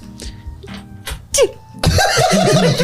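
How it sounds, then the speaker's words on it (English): A few short, sharp bursts like a small sneeze, followed by loud laughter from several people. "show us your cutest sneeze"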